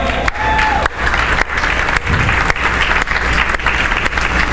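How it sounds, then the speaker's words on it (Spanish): A church congregation claps loudly and steadily for several seconds, a full room of applause with little talk. "Un aplauso para ellos."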